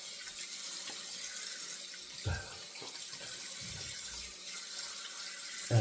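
Tap water runs steadily into a sink while a 1940s Gillette Super Speed safety razor is rinsed during a wet shave, with a few brief splashes and clinks close by and no talking.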